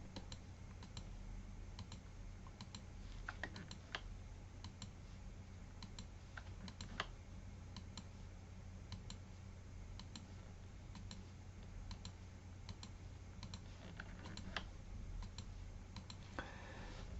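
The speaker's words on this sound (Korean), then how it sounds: "Alt키 눌러서 복제를 해줍니다" Computer keyboard keys tapped in close, irregular clicks and short bursts throughout, quiet and with no one speaking, while a Photoshop user duplicates a wall layer using the Alt key.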